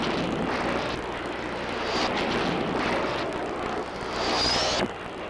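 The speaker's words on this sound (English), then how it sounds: "French-built Mystère and Vautour jet fighters attack Egyptian troops," French-built Mystère and Vautour jet fighters attacking Egyptian troops, a continuous loud roaring rush of jet engines with a rising whine near the end, dense broadband noise throughout.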